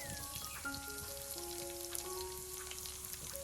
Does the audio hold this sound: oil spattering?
yes